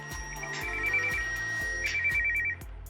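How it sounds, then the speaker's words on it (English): The find-phone alert on a phone triggered from a Gionee StylFit smartwatch: a loud electronic ringtone of repeating beeping tone bursts in a steady pulsed rhythm, close and clear, then cutting off abruptly. "the find phone option, which plays a loud tone on your phone"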